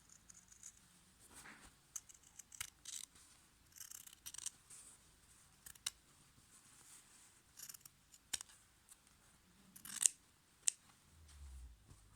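Scissors snip through cotton fabric for a sewn face mask, a run of small crisp clicks and short cuts spaced unevenly, close and fairly quiet, with no voice.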